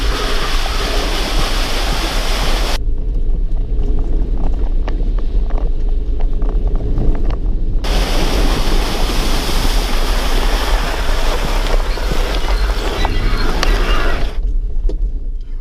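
A 2016 Ford Endeavour 3.2L 4x4 automatic in sand mode drives through a shallow riverbed crossing, giving steady loud broadband water rush and rumble throughout, with a quieter dip in the middle stretch.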